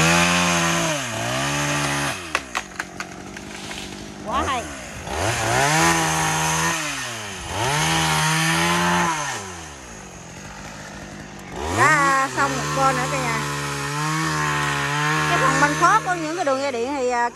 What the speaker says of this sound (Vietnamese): Phần bên đây anh Kiệt và anh Hiền cũng đã cưa xong rồi